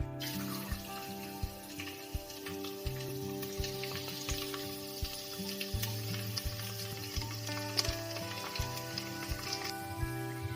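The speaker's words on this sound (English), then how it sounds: "Our oil is hot now. We will add garlic" Garlic frying in hot oil inside a pressure cooker, a steady close sizzle with crackling bursts and faint clinks, no voices.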